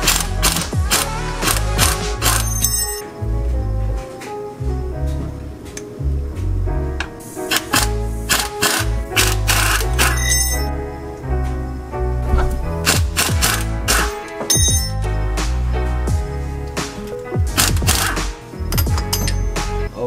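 A 14mm socket on a ratchet cranks to break loose axle bolts under a car, giving dense, continuous mechanical clicking and clattering with sharp metallic bursts throughout, close and loud.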